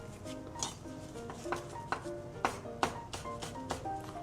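A knife julienning perilla leaves on a cutting board gives quiet, irregular tapping chops and light clicks against the board, spaced a fraction of a second apart, with no voice over them.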